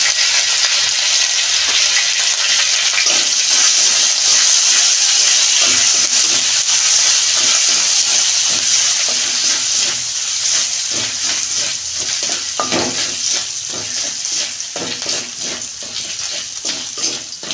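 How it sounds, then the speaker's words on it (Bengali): Grated ginger sautés with cinnamon, cardamom and cloves in a pan, giving a loud, continuous sizzle. Scraping stirs break in repeatedly and grow more frequent toward the end. "আদার গন্ধটা চলে যাবে, ততক্ষণ আমি একটু কষতে দিই"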